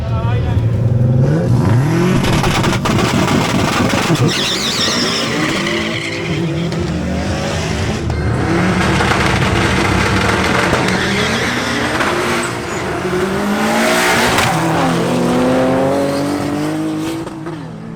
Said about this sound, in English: a duel held during the free practice session between Leonardo Lillo and his BMW 325i versus the Subaru Impreza WRX of Anderson Patino